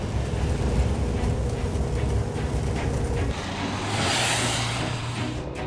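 A car creeps along in first gear over glare ice under snow on studless winter tyres, with a steady, close, broadband road and engine rumble and a brighter hiss of tyre noise swelling toward the end.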